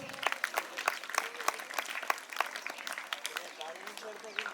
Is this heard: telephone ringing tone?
no